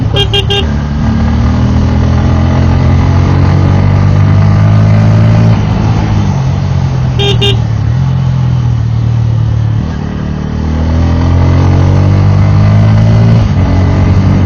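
A Bajaj Pulsar N160 motorcycle ridden on a highway, its engine droning loudly and steadily with shifting pitch as it accelerates and eases, plus brief high horn toots near the start and midway.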